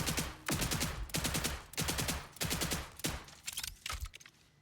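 A shotgun test-fired in a video game, a series of loud, evenly spaced booming blasts with a short reverberant tail after each, followed by quicker, lighter shots at the end.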